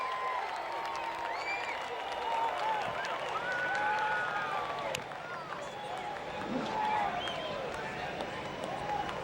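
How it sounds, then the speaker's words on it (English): A grandstand crowd at a World of Outlaws sprint car dirt track race in Rossburg, Ohio applauds and cheers for a winning driver, a sustained crowd roar with an announcer talking over it. "he can hear your applause"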